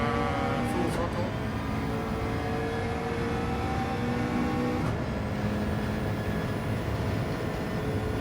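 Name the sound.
car engine at full throttle, Gran Turismo 7 video game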